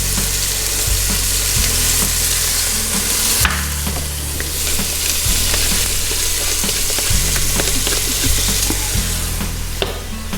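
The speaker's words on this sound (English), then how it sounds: "we're gonna let that sear for just a minute right there till it browns on one side" Wild turkey meat sears in a hot pan with a loud, steady sizzle, broken by scraping and stirring sounds and a brief louder burst partway through, close up and without talking.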